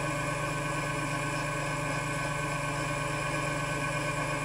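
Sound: belt-driven mini lathe running

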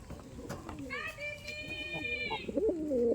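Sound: pigeons cooing, male and female pigeons for sale

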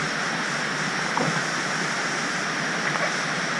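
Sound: waterfall

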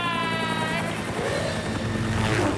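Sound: cartoon helicopter

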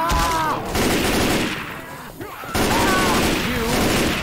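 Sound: gunfire in the video game Left 4 Dead 2

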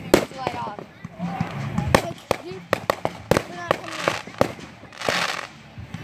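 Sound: fireworks going off

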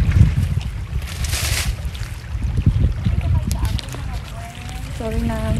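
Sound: strong wind

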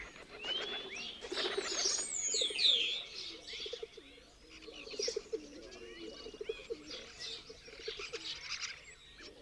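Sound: pigeons cooing at a pigeon loft in Villafafila

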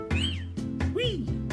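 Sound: Pokémon GO cry of Felilu, the cat Pokémon, from a video game

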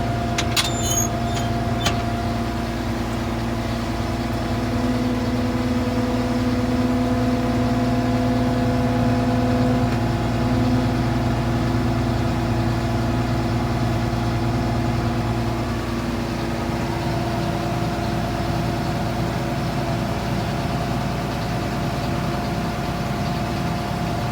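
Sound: John Deere 2264 combine engine revved to pump hydraulics

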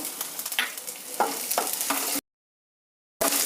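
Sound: green chillies, ginger and curry leaves frying in a pan

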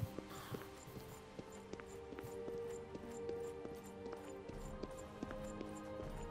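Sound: horse hooves on a road in the video game Oblivion

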